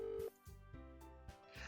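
Phone dialing tones in a Doki Doki Literature Club mod game, a short sequence of several electronic beeps in an uneven rhythm, close and fairly quiet.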